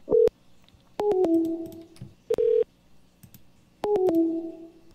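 A repeating telephone tone pattern from an unanswered call, with short bursts and descending two-step beeps at regular intervals, clear and close with nothing else in between.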